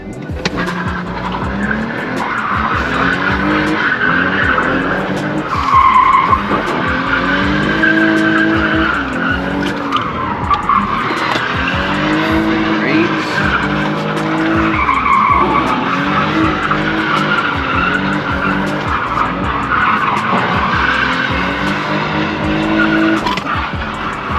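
A BMW E46 with no springs skids through repeated figure eights, tires squealing continuously under a revving engine, loud and close with rising and falling pitch as the car swings around each loop.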